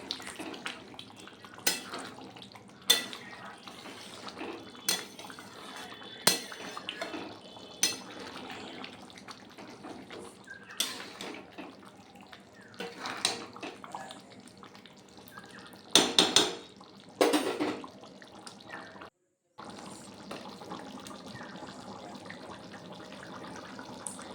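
Sprouted chickpea chole masala gravy being stirred in a pan over a gas flame, with intermittent spoon scrapes and clinks against the metal over a low bubbling simmer, close, briefly dropping to silence near the end.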